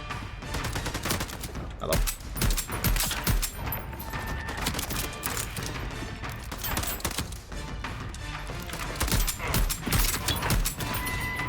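Shotgun fire in the Voidtrain video game, a rapid series of sharp, loud blasts in irregular bursts, with a brief spoken greeting among the shots.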